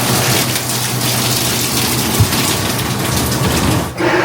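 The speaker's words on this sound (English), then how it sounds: "So all above us there's water pouring through." Water pours and splashes loudly through gaps in the brick lining of a deep canal tunnel, a dense, continuous rushing roar that drops away abruptly near the end.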